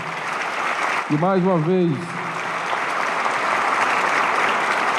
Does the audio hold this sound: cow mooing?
no